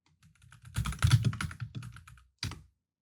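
A computer keyboard clicks in a quick close burst of typing that taps out a search query, then one last key tap after a short gap.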